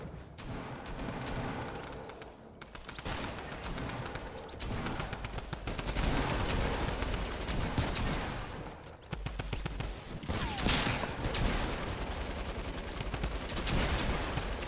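Sustained rapid automatic gunfire from the drum gun in Fortnite, dense and continuous with steady loud bursts across the whole stretch, plus occasional heavier booms and no talking.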